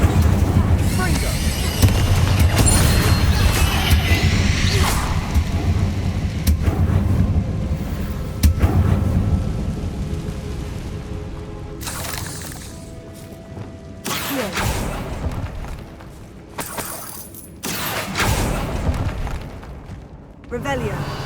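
Spell blasts from the Confringo and Incendio casts in the Hogwarts Legacy game: loud repeated booming and crackling bursts over a dense rumbling bed, with later sharp blasts separated by brief quieter gaps.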